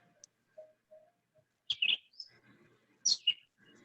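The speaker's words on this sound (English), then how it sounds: "I hear birdies chirping." Small birds chirp outdoors in short, scattered tweets and brief whistled notes, some faint and some sharper bursts close by, with quiet gaps between calls.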